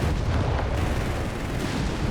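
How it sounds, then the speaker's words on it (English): Frag grenade going off in a Company of Heroes 3 battle, a dense rumbling blast amid continuous explosions and gunfire that fills the whole mix. "Nice frag grenade there."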